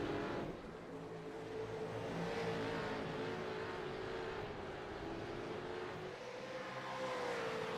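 V8 Supercars race cars in a sim racing game at Imola, a steady, loud engine drone with rising whine as the cars accelerate together, continuous throughout with no talking.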